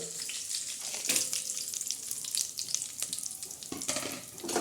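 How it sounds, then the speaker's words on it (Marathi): Grated coconut roasting in a pan while it is prepared for a jaggery sweet rice dish, giving a steady close sizzle and crackle with scraping stirs and a few sharper bursts throughout. "लालसर चांगलं खोबरं भाजून घेणार आहोत"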